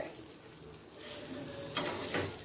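Garlic and chilies fry in butter in a pan, giving a soft, faint sizzle with light stirring, and a brief scrape or clatter toward the end.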